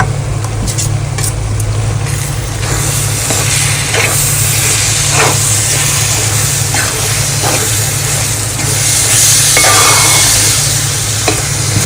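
Green chillies, ginger and crushed garlic sizzling in hot oil for a prawns pickle, a loud steady frying hiss with occasional stirring scrapes, close and uninterrupted.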